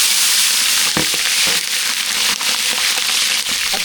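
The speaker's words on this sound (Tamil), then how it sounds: "கடுகு நல்லா பொரிஞ்சிட்டு பச்சை மிளகாய் சேர்த்துக்கலாம்" Mustard seeds splutter in hot oil while tempering semiya kichadi, a steady loud sizzle with scattered sharp pops and crackles throughout, close up.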